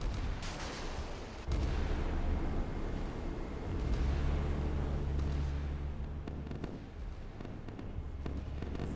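A barrage of missiles firing and exploding in a real-time strategy video game: dense, continuous booming rumbles and overlapping blasts, loud and heavy, with no talking.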